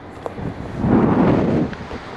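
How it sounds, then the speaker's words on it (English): Strong gusts buffet the microphone outdoors beside a 2023 Mazda Miata, a low rumbling roar that swells loudest in the middle and stays steady throughout with no voices. "Get behind the car, block out some of this wind."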